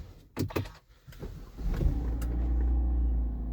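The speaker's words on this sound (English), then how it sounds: "Then start the engine." A Kia Sportage engine cranks with a few clicks and a brief starter whir, then catches and settles into a steady low idle rumble that continues loud and close.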